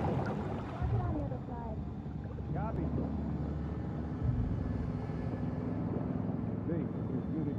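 A boat engine runs in The Last of Us Part II video game, giving a steady low drone that stays beneath ongoing talk throughout.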